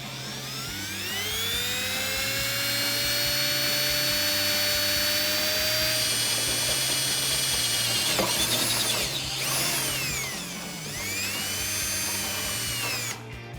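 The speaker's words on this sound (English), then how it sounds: "We're going to drill all the way through the inner part of this" Power drill boring through a Jeep Wrangler JK fender flare and the inner fender. The motor spins up to a steady high whine, briefly rises in pitch under load, pauses, then runs again, close and loud.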